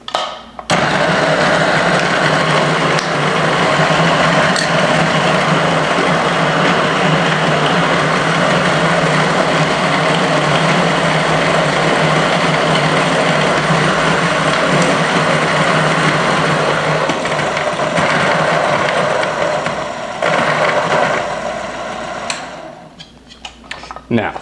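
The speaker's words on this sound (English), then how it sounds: "we're gonna need to grind us some coffee" Electric coffee grinder grinding coffee beans, a loud steady whirring motor that runs continuously for about twenty seconds before stopping.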